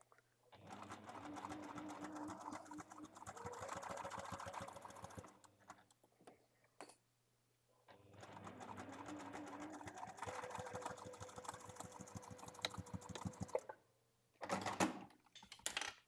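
Domestic sewing machine stitching a bag seam at a quarter-inch allowance, two long runs of fast rhythmic needle clatter close by with a short pause between them, then a brief final burst.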